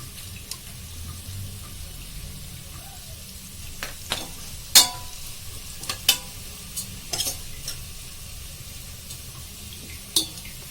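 Mutton curry with turmeric fries in a pan under a soft, steady sizzle, broken by scattered scraping clicks as it is stirred.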